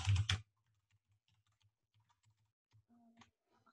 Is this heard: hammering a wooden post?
no